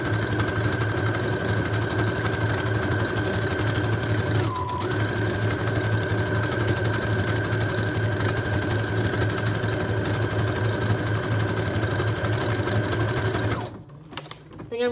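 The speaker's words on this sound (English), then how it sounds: "and then I'm just going to sew all the way down" A sewing machine stitching down a vintage-style junk journal page, running steadily with a fast even whir and rhythmic needle clatter for about fourteen seconds, close and loud, then stopping abruptly.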